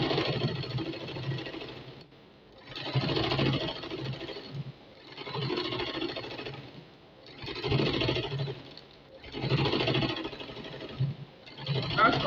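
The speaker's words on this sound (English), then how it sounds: "Just open it up like this and top stitch on it." A sewing machine top-stitches a sleeve seam in close, loud whirring runs of a few seconds each, separated by short pauses, with a faint low hum underneath.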